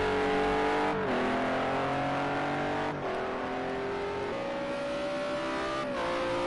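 GT3 race car from Project CARS 2 at Road America howls at high revs, its engine note sweeping through upshifts near the one, three and six second marks, loud and continuous with no voices.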